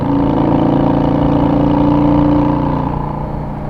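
A Yamaha V Star Silverado motorcycle engine runs at about quarter throttle, a loud, close, continuous rumble that holds steady for most of the stretch before easing off near the end.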